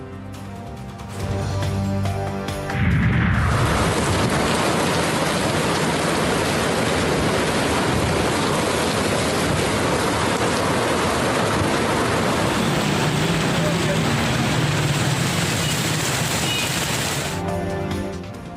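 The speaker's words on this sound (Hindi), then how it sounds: "चकवाल में वक्फे वक्फे से मूसलाधार बारिश।" Heavy monsoon downpour in Chakwal, Pakistan: a dense, steady roar of rain hissing across the whole clip, close and loud, with no voices over it.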